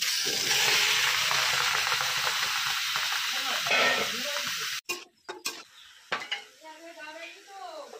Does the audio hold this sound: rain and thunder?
no